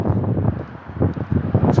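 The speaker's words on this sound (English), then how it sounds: "Yeah, it's just windy. It's windy and I'm next to a busy road near a Lidl." Gusty wind buffets the microphone beside a busy road near a supermarket, a steady loud rumble with swells and rustle for under two seconds, no traffic standing out clearly.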